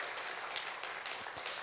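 Applause from a church congregation during a Sunday service, steady dense clapping that fills the whole short stretch at moderate volume with no talking over it.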